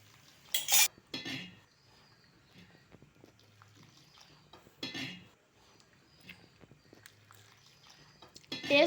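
Cutlery clinks and scrapes against a plate while someone eats black karuppu kavuni rice idiyappam, in a few sharp bursts separated by quieter stretches of faint rustling and handling sounds.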